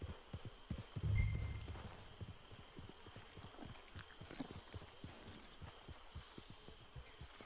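Horse hooves clip-clopping in Red Dead Online, a quick steady run of low thuds close by, with a brief louder bump near the start and faint background ambience, no talking.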